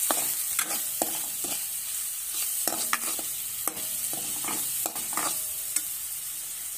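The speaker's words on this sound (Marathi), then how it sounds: "तेलातच हळद आपल्याला भाजून घ्यायची असते" Turmeric frying in hot oil in a pan for Maharashtrian pitla, with a steady sizzle and repeated scraping strokes of a spoon stirring it, close and fairly loud, with no talk.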